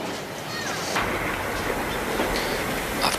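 A modern freight train with a tank wagon passes nearby, giving a steady loud roar of wheels on rail with faint clattering and occasional metallic squeals.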